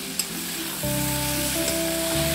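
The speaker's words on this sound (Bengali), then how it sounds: "মা কাঠের উনুনে বানাচ্ছে কফি ঘন্ট, তো নিরামিষ কফি ঘন্ট মটর দিয়ে" Vegetarian cabbage curry with peas and potato sizzles steadily in a pan over a wood-fired stove, a close, continuous frying hiss with a faint hum beneath.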